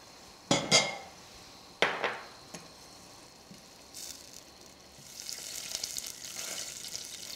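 Butter melts in a pan for a bechamel sauce, a few sharp metallic clinks of utensil against pan followed by a faint, rising sizzle that grows steadier toward the end.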